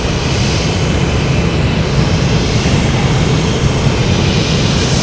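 An airplane at Boston Logan Airport, a loud sustained roar of aircraft engines that stays steady and close across the whole stretch, broad and rumbling, with no talking.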